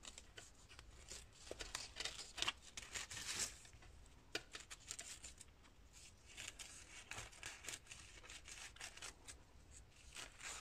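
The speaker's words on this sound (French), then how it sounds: "je coupe grossièrement" Scissors roughly cutting around a motif on a thin paper napkin for a card, with soft irregular snips and paper rustling over a steady background hiss, close and fairly quiet.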